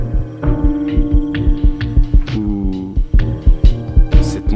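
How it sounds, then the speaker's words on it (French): A heartbeat sound effect from an animated film, a regular low thumping pulse over a loud humming, droning score, with a brief vocal-like swell partway through. "battement de cœur."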